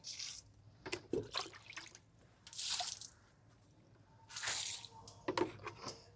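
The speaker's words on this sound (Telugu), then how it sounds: "ఫ్రూట్స్ మొక్క చూసారు కదా దీనికి కూడా పోస్తున్నాను" Fermented liquid fertilizer poured onto a fruit plant in a garden, heard as a few soft, close splashing and dripping bursts separated by quiet gaps.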